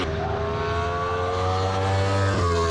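MotoGP racing motorcycle engines rev hard and continuously at close range, a dense, high-pitched mechanical roar with pitch swells and no talking over it.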